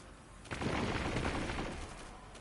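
Video-game gunfire: a sudden burst of rapid shots starting half a second in, sustained as a dense crackling volley before easing off, fairly close with no talk.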